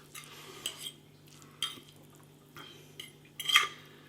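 A utensil clinks and scrapes lightly against a bowl while Indomie Mi Goreng noodles are tossed with their seasoning oil. The taps come faint and close, in a few separate bursts.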